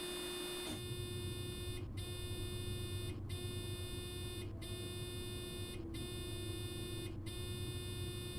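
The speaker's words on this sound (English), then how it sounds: "I think that alarm's playing twice now." Train alarm buzzer in the Train Sim World 5 game sounds as a steady tonal drone broken by short regular gaps, two overlapping alarms running slightly out of step over a low rumbling hum.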